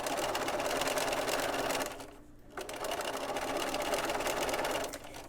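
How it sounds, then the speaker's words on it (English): A sewing machine stitches steadily over zipper tape on a zippered head cover, a fast, even mechanical whir close up that pauses briefly in the middle and resumes. "Drop the needle, and now I'm going to sew over the zipper tape."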